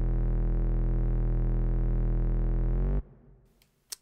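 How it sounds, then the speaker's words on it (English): A deep 808 bass in a hip-hop beat holds a loud sustained tone for about three seconds, bending upward near the end before cutting off into a brief, quieter tail of beat sounds. "in the beginning, there's like this 808 that like glides up towards the end"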